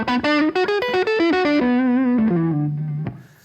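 Electric guitar played through a Hall of Fame reverb pedal on the Neon Blues TonePrint, a quick run of plucked bluesy notes settling into a sustained bent note with a roomy, alley-like reverb tail that fades out.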